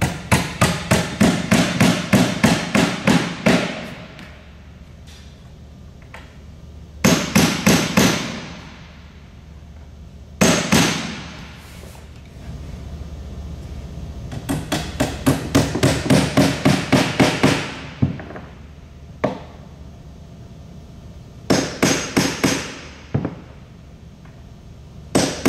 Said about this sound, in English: Now nailing the blind nails.